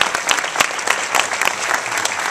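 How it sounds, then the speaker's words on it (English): A film festival audience applauds the staff on closing night, loud close clapping with sharp individual hand claps over a crowd wash, plus faint voices in the background. "So I just want to give another round of applause to them."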